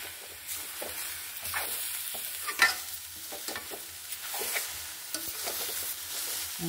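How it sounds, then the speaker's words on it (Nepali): Grated carrot halwa being stirred and cooked in a wok: close, continuous scraping and shuffling strokes with a light sizzle underneath, no voices. "यसरी चलाइ पकाउनु पर्छ।"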